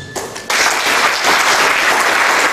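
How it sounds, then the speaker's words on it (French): Loud applause erupts at a Bible dedication ceremony in Gagnoa, a brief quieter lead-in giving way to dense, sustained crowd clapping. "sous vos acclamations"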